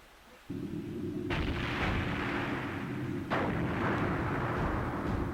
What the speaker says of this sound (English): Sounds like gunfire.